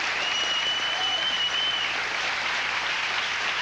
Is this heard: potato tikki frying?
no